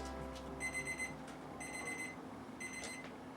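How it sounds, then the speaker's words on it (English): A kitchen timer alarm rings in three clear bursts of repeated high electronic beeps, set in a home kitchen while chicken quarters roast, standing out over a steady low room hum. "Let's stop our timer"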